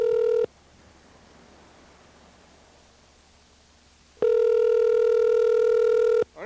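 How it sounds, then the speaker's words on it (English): Outgoing call ringback tone on a telephone line: two long steady ring bursts separated by about four seconds of quiet line hiss, the second cut short, loud and clear with no talking. "I wonder if it's actually ringing his phone now."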